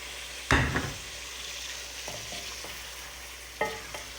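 Chicken pieces sizzle in a pan of spices, with a sharp burst of stirring and scraping near the start, a steady frying hiss throughout, and a few more clinks and stirs later on.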